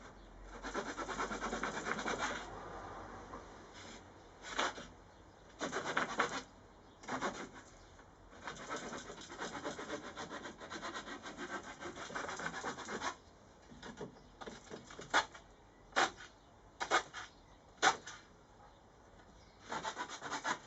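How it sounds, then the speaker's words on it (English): A small multi-tool saw cuts notches into a green sapling bow, giving rough, rasping wood strokes that run continuously at first, then break into short separate bursts, close and fairly loud. "for cutting notches I have a rather useful little saw on my multi-tool"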